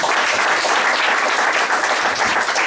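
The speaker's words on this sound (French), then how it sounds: "que je vous demande d'applaudir" Audience applause at a live event in honour of a presenter, dense sustained clapping from a large crowd, loud and continuous throughout.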